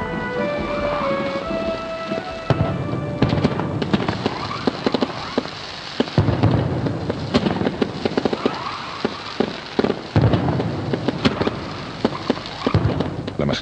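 Mascletà firecrackers and fireworks during the Fallas festival in Valencia, a dense, loud barrage of sharp bangs and crackling strings of detonations that builds into rapid, rumbling bursts.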